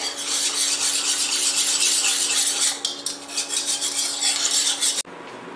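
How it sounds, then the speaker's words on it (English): A whisk scrapes briskly and rhythmically through milk in a metal pan while it heats for a pasta cheese sauce, close up and continuous, then stops abruptly near the end. "So we have to whisk this till it boils."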